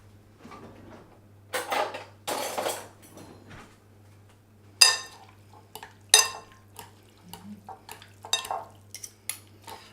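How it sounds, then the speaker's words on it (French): A utensil scrapes and clinks against a bowl while red pepper salad is stirred with olive oil, a few separate bursts of scraping and sharp taps in a quiet kitchen. "Et je remue."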